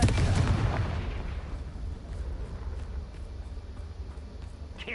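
A Confringo spell blast in the video game Hogwarts Legacy hits with a loud explosive burst at the start, then settles into a sustained rumbling roar.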